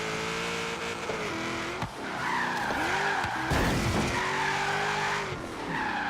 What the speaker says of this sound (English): I have drifted some all-wheel drive cars and game drifted in all-wheel drive.